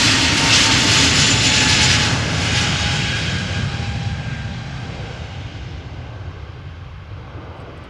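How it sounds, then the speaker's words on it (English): An Aer Lingus Airbus A320neo bound for Dublin roars close by at Amsterdam Schiphol, a loud jet engine rush with a high whine that peaks early, then steadily fades as the aircraft moves away. "A320neo going to Dublin, Ireland,"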